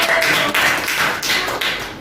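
Classroom applause for a student named Mutiara during an elementary school lesson, a dense, steady patter of many small hands clapping together, fairly loud and continuous with brief dips, no talking over it.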